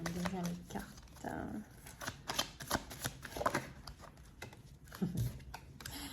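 Tarot cards being shuffled and drawn by hand, soft papery riffles and flicks in short bursts, with someone speaking French over and between them.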